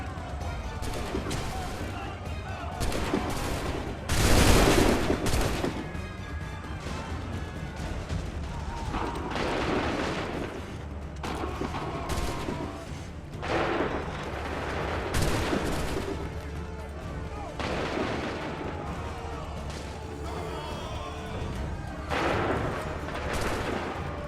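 Musket volleys crack out in the Assassin's Creed III video game, loud bursts of massed gunfire standing out against continuous battle noise, with shouted commands heard over the din.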